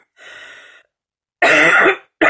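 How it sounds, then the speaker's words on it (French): A woman coughs in a quiet room, one softer rasping throat-clearing cough followed by a loud harsh cough up close and the start of another, with no talking. "de m'entendre tousser sur toutes mes vidéos"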